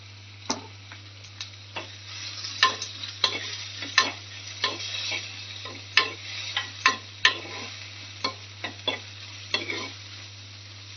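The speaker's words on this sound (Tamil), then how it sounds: "இது வதக்கி போடுறது" Fish curry ingredients are sautéed in a clay pot (manchatti), with a spoon scraping and tapping the pot in irregular knocks over a steady low hum.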